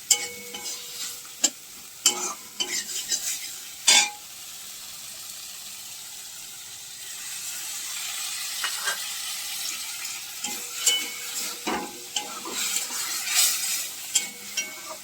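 Soup ingredients sauté in a pan on the stove for rice cooking, with a spoon scraping and stirring in bursts over a steady soft sizzle; several sharp clinks of utensil on metal, with no voices.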